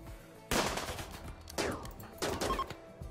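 Colonists firing guns in Rimworld: three loud volleys of gunshots, each a sharp crack followed by a decaying tail, spaced about a second apart.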